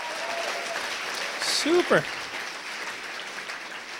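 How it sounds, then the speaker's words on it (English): A stand-up comedy audience claps steadily while a host briefly speaks over the applause, with a couple of short vocal sounds near the middle. "Give yourselves a round of applause."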